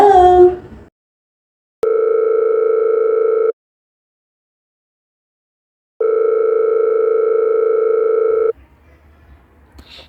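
A telephone ringback tone sounds as a podcast host calls a phone-in caller, two long steady electronic tones separated by silence, loud and clean, with brief voices just before and after.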